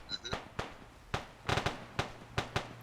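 Rocket strike explosions in the military game Arma, heard as a run of sharp, loud blasts and cracks at irregular intervals, some doubled, over a low steady hum.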